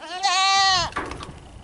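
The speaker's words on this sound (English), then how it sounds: "The goats are doing okay." Goats bleat in one loud, drawn-out, wavering call about half a second long, rich in harmonics and sounding close. It is followed by quieter outdoor rustling and background noise.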